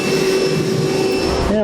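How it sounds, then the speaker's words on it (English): A vacuum cleaner runs steadily with a loud, whining drone, close by, sucking up drilling debris while a 5th wheel hitch kit is installed on a 2016 Ford F-series truck. "Now I'm going to vacuum my mess up."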